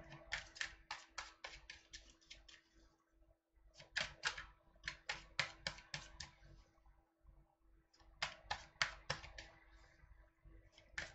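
Tarot cards are shuffled in three bursts of rapid crisp riffling slaps separated by short pauses, close and fairly quiet over a faint steady hum.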